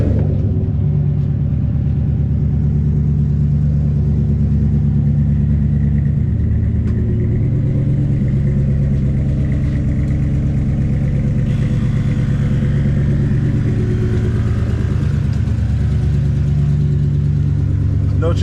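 A car engine with a broken exhaust runs steadily while warming up, a loud, close, continuous rumble whose tone shifts partway through, with no clear separate revs.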